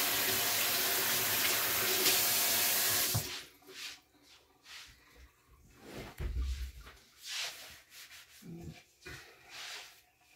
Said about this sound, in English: I do need to wash my hands.